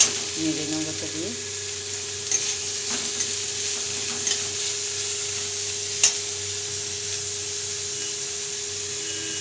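Chopped onions frying in oil with black cumin seeds for an omelette curry, a steady close sizzle throughout with a few brief clinks of stirring, no talking.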